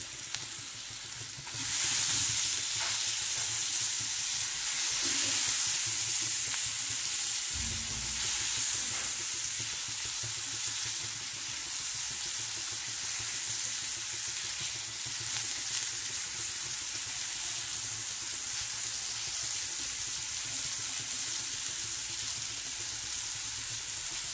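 Dal tipped into a hot iron pan for a Maharashtrian dal-vangi dish, giving a steady, close, loud frying sizzle that holds evenly for the whole stretch with a brief stirring scrape near the start and no talking.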